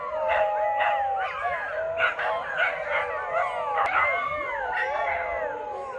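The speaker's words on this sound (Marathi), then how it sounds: "जस्ट एक दोन मिनटं हे असं चालू करतात भुंकायचं आणि नंतर शांत होतात" Several dogs howl and yelp together outdoors at a coastal holiday spot during the call to prayer, overlapping rising wails with short barks that continue for the whole stretch.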